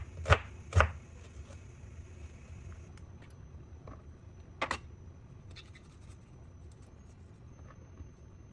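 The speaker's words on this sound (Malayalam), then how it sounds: "എൻ്റെ അരിയലിൻ്റെ ഭംഗിയൊന്നും ശ്രദ്ധിക്കണ്ട കേട്ടോ" A knife chops vegetables on a board in a home kitchen: a few sharp, separate knocks, two close together at the start and another midway, over a low background hum.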